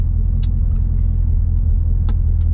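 Heavy vehicle rumble on a road at night, a loud low steady roar that points to a truck passing close by, with a few faint clicks on top.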